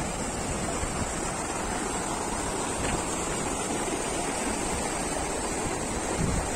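Churning river water rushing steadily at a swimming spot in Chiapas, Mexico, stirred up by washed-in wood and leaves; a loud, continuous broadband roar with no pauses.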